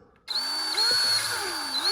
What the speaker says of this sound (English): I'm gonna put a little drill in these holes here.